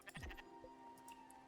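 Sheep bleat in the video game Spiritfarer, a short quavering call up front followed by a faint second bleat over a quiet ambient music bed.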